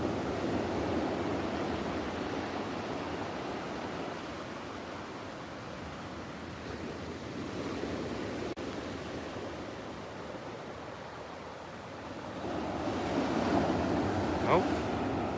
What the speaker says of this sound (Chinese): 这都是今仔日的花莲海边